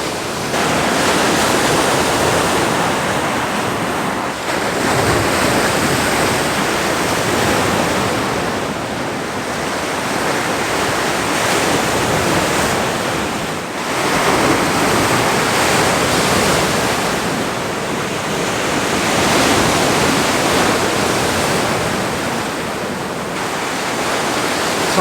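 Ocean surf rolling onto the shore at blue hour, a steady, loud wash of breaking waves with gentle surges and dips throughout and no voices.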